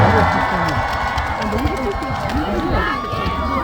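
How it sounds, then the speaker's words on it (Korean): Crowd at a persimmon festival stage show in Hamyang applauds and cheers to welcome a guest, with lively clapping, shouts and children's voices under nearby chatter. "박수 환영해 주십시오."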